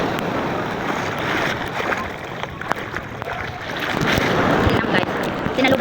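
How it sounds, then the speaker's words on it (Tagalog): Strong sea waves crash and wash continuously onto a stony-free beach during a Quezon seaside outing, a loud steady roar with surges, wind buffeting the microphone and people talking over it. "Sinalubong kami ng hampas ng alon."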